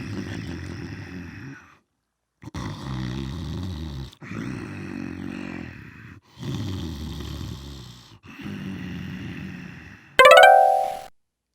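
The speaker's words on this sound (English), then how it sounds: "And the wolf drifted off to sleep, snoring loudly." Sleeping wolf snoring loudly as a bedtime story sound effect: four long, deep rasping snores with short silent gaps between, followed by a bright chiming flourish.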